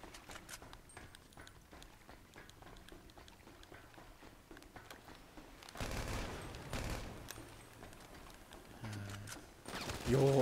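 Gunfire in GTA V Online Team Deathmatch. A rapid, crackling fusillade of shots runs through the scene with a few louder bursts, and a voice can be heard briefly near the end.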